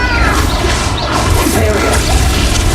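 Incendio and Bombarda spell blasts in the Hogwarts Legacy video game burst out as a loud, dense wash of crackling, rumbling impacts filling the whole moment, with no speech.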